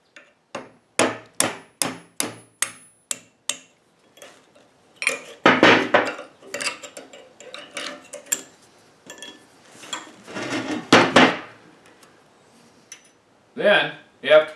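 A hammer strikes the U-joint clips on a Dana 60 axle: a rapid series of loud metallic blows, then scraping, clanking work with more bursts of strikes, close and dominant, with speech mixed in.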